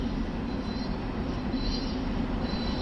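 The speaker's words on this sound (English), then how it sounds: "You can hear the train squealing as it goes round." A train in Train Sim World 2 rolls around a sharp curve with a continuous heavy rumble, and thin, high wheel squeals rise faintly above it at intervals.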